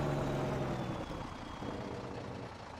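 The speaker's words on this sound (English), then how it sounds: "I'm going to try to zoom back away from this truck because she does get kind of loud" A heavy truck engine in Farming Simulator 2019 idles with a steady low rumble, close and fairly loud, easing off slightly partway through.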